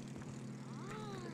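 A propeller airplane engine drones steadily in the video game It Takes Two, a faint continuous hum with a rising and falling tone near the end and no speech.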